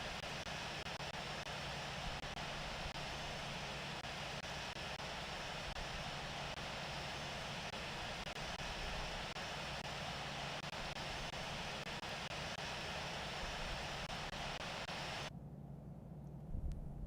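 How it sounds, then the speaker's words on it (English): Airliner jet engines spooling on the runway in the Infinite Flight game, a steady, loud, even roar of engine noise with no talking, cutting off sharply near the end. "We're finally taking off"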